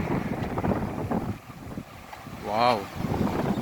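A continuous rushing roar of the fast-flowing, whirlpool-filled Kaveri river near Sattegala, Chamarajanagar, with wind noise on the microphone and a single voice exclaiming briefly near the end.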